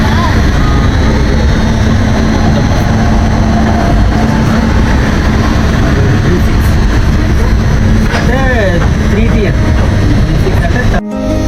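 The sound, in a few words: train running on rails during a train journey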